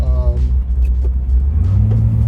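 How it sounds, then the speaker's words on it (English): A 1992 Range Rover Classic with a V8 idles on a cold day, its exhaust giving a deep, close, steady low burble that swells slightly toward the end, with brief faint voices over it. "this particular truck also has a pretty nice little exhaust burble"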